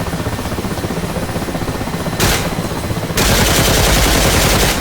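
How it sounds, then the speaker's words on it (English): A door-mounted gun fires from an Mi-8 helicopter in DCS, loud sustained bursts of rapid fire over the constant roar of rotor and engine, with a brief burst followed by a longer, louder stream. "I'm shooting behind the target. It's kind of a lag instead of a lead."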